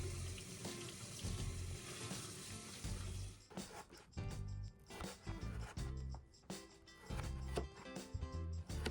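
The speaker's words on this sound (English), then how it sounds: "I then washed my potatoes and cut them into chunks." Tap water runs steadily into a sink while potatoes are washed by hand, a continuous close splashing stream with rubbing and shifting water sounds in the second half, no talk.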